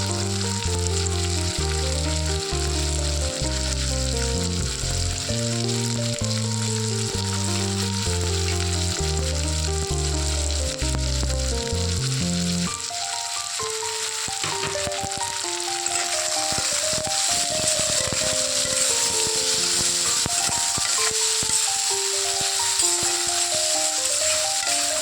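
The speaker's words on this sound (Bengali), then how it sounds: "আলুটা ভাজা ভাজা হয়ে গেছে, এখানে টমেটো কুচি দিয়ে দিলাম" Chopped tomato and potatoes fry in a hot pan with a steady, close sizzle that runs for the whole stretch beneath continuous background music.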